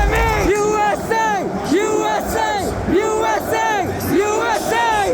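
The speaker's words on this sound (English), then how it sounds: "To be in the crowd, chanting, screaming, watching this moment" A large wrestling arena crowd chants in a loud, rhythmic, repeating pattern of rising and falling yells, a dense wall of voices with screams mixed in, close and continuous.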